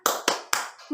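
A class of schoolchildren doing a spirit clap: three sharp, loud claps in quick succession, close by, with a fourth beginning at the end.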